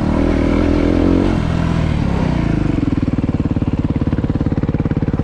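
A supermoto motorcycle engine on a gravel pit, first a rough revving roar, then settling into a pulsing, choppy throb with scraping clatter underneath, close and fairly loud.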